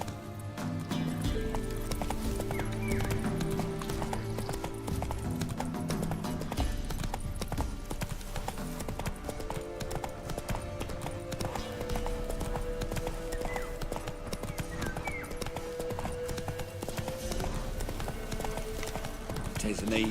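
Roach the horse gallops in The Witcher 3, hooves clip-clopping in a fast continuous rhythm with an occasional whinny, mixed with game music and a voice talking.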